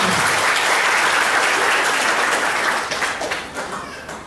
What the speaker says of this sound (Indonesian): Berikan tepuk tangan yang mulia buat Allah.